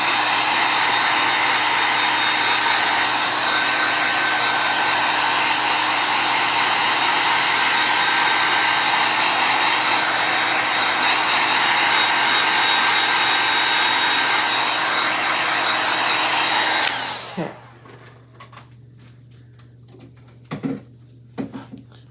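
A heat tool blows hot air on high heat to dry paint on a vintage nutcracker chalk craft, a loud, steady whooshing roar that runs for about seventeen seconds and then cuts off, followed by a few soft clicks and taps.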